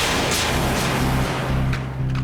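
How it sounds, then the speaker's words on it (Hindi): Firecrackers burst in a noisy, crackling barrage, dull booms and pops layered over a constant low rumble, loud and continuous. "पापा शम्मी अंकल ने पटाखे खरीद के दिए"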